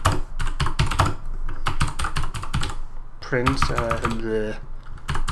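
Rapid, uneven typing on a computer keyboard, loud and close, with bursts of clicking keys throughout; someone speaks briefly over the keystrokes partway through.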